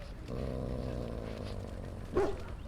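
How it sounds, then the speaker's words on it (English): A puppy in the Dragon Age: Origins video game makes a low, rumbling growl, then gives one short bark near the end, quiet and close. "Who's the cute and adorable puppy?"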